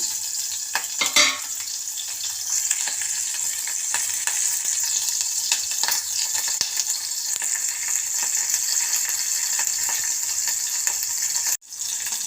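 Chopped green chillies and turmeric frying in hot oil, giving a close, steady crackling sizzle with scattered pops and the scrape of stirring throughout, and a brief dip near the end.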